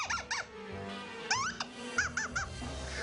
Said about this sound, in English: I came up with this sound right here, which is the squeaky toy voice